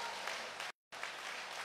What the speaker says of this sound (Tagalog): Yung malakas na palakpak, ibigay natin sa Panginoon